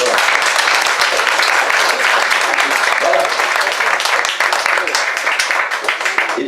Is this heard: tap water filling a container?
no